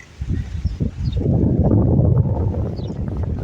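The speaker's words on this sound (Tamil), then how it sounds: "காற்றை அடிக்குது, செம்ம காற்று வீசுது" Strong wind buffets the microphone at Salmiya beach in Kuwait, a loud, steady low rumble with gusty swells rising and falling throughout, no voices over it.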